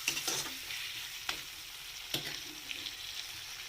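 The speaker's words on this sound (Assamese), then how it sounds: "গেছটো অকণমান কমকৈ দি এনেকৈ ভাজি থাকিলেই হ'ব।" Chicken pieces fry on a low gas flame in a pan, a soft steady sizzle broken by several scraping stirs of a spatula, with no talking.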